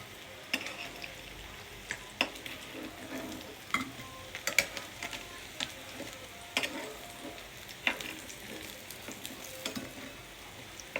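Hilsa fish pieces frying in hot oil in a home kitchen, giving a close, steady sizzle broken by sharp crackles and spitting pops at uneven intervals, with no voices.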